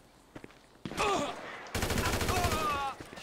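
Rapid bursts of automatic gunfire from the video game GTA 5, two loud sustained volleys separated by a brief pause, with scattered quieter shots around them.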